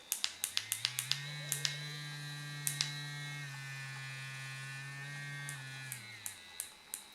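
A small handheld blackhead vacuum device buzzes steadily with a low electric hum, rising slightly in pitch, framed by a series of sharp clicks at the start and end.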